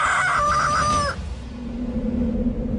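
Farm chickens, with a rooster crowing once up close for about a second, followed by a low steady rumble of barnyard ambience.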